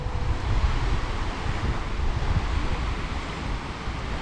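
Steady wind buffeting the microphone over the wash of waves on a wide, shallow sandy beach in Sicily, a constant broadband roar with no distinct breaks and no voices.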